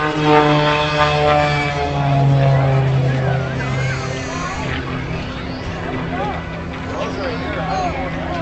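An aerobatic airplane's engine drones steadily through an air show maneuver, its humming tone shifting in pitch as it passes, while an announcer talks over it throughout.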